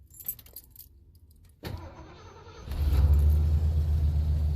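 A van engine cranks and catches after a jingle of keys, then settles into a steady loud low rumble of idling, close by with no talk.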